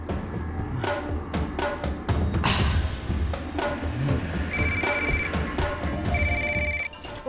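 An electronic phone ringtone chirps in two repeated bursts near the end, after clattering and shuffling noises at the start.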